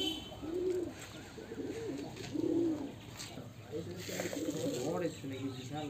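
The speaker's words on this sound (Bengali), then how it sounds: "এই হচ্ছে আমার কিছু পায়রাগুলোকে একসাথে দেখাই।" Pet pigeons coo in soft, repeated throaty bursts at close range, with people talking over and between the calls.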